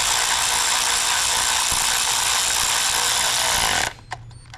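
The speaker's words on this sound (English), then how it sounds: "I'll just go ahead and get my ratchet here. Go ahead and get this all screwed down." Ratchet driving screws down during a crank-no-start repair on a Honda CR-V, a loud continuous rapid clicking and whirring for nearly four seconds before cutting off, leaving faint clanks.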